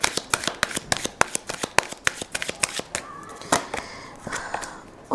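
A deck of tarot cards is shuffled close by in a quick run of crisp riffling clicks that thins out toward the end, where a voice briefly comes in.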